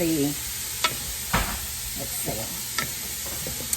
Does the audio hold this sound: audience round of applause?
no